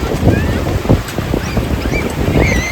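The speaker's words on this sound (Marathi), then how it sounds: "आणि ह्या समुद्राच्या लाटा." Sea waves wash onto Shrivardhan beach on the Konkan coast in a steady, loud surging roar. Strong wind buffets the microphone over it, and brief faint voices are heard in the distance.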